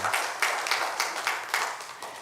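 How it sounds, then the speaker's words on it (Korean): A church congregation claps together in a steady, even rhythm of quick broadband slaps, moderately loud and slightly roomy, with no voices over it. "하나님께 영광의 박수 올려드리겠습니다."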